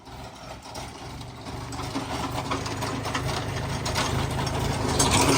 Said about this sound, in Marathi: JCB रोटर तुम्ही बघू शकता. ट्रॅक्टरचा रोटर.